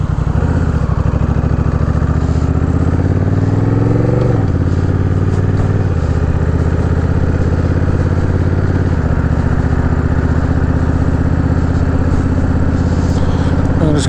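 Honda Rebel 1100 DCT motorcycle heard while riding, its engine rumbling loud and steady as revs rise and it picks up speed, with rushing wind noise throughout.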